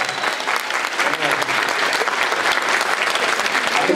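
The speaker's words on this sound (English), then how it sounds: "Let's give him a round of applause" A convention panel audience at a Comic-Con gives steady, loud applause, a dense wash of clapping that holds throughout with scattered voices underneath.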